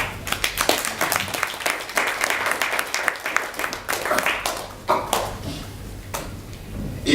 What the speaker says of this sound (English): If you can clap for Mulika.